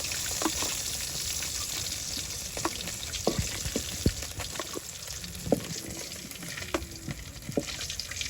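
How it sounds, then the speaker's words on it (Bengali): Fish sizzling lightly in hot oil in a pan during village cooking, a steady crackling fry with scattered pops and spatters, close and moderately loud, with no talk. "মাছগুলো হালকা ভাজা করে নিচ্ছি, কড়া কড়া করে"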